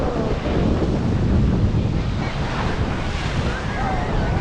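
Sea surf rolls onto the beach at Puri in a dense, continuous roar mixed with wind buffeting the microphone, loud and close, with faint voices in the background.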